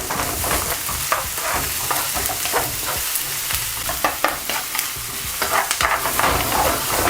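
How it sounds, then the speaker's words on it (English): Onions sauté in a hot pan, giving a loud continuous sizzle close up, punctuated by sharp clicks and scrapes as they are stirred. "Just gonna saute these onions first."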